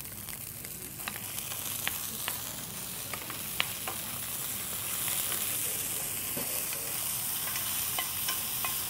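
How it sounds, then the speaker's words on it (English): Garlic frying in a pan for a teriyaki pasta dish, giving a steady close sizzle with occasional light clicks from stirring, heard alone without speech. "I'm going to put a little garlic in here. Again, we have to be careful that we don't burn our garlic."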